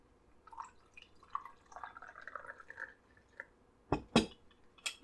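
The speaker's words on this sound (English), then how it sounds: "about 100 ml of hot water" Hot water is poured into a cup for a hot rum grog, a soft trickling and dripping at close range that ends in a few sharper splashes and clinks, with no one talking.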